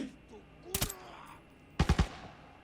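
Two short bursts of gunfire from the video game Arena Breakout, a quick double crack and then a sharper triple burst, heard fairly close over quiet background.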